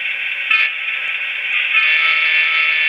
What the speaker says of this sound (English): That turns the horn on and off.